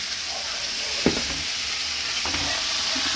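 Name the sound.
stirring vegetables in a cooking pan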